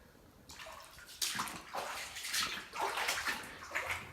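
Flood water inside a flooded house after tornadoes, a series of soft splashing and sloshing surges repeating every half second or so, close by but fairly quiet.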